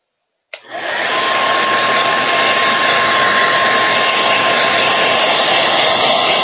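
A heat gun switches on abruptly and blows a loud, steady rush of air with a faint high whine, running continuously to the end.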